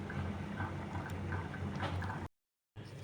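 Mutton keema ghugni bubbling in a pot, a soft steady simmering patter with faint bubbling pops, quiet and close, cutting to silence briefly before resuming.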